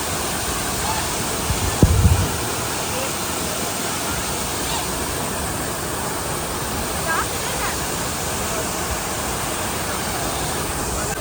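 Steady broadband roar of Cheeyappara waterfall in Munnar, constant and fairly loud throughout, with a brief knock near the start and faint background voices.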